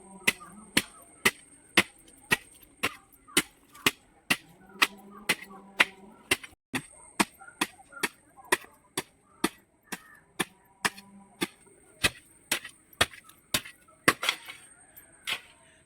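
A hoe chops steadily into soil to break it up for planting chilli seedlings, roughly two dull thuds per second over a long stretch outdoors, with faint birdsong and a high steady tone in the background.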